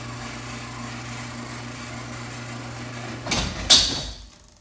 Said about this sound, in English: There's still a lot of squealing after I lubed the belt.